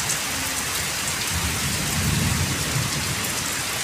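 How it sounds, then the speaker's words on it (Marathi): Steady rain pours onto a road lined with trees, a dense continuous hiss of drops with a slightly heavier patter midway, loud and close, with no voices. "रस्त्याला मस्त पाऊस पडतोय."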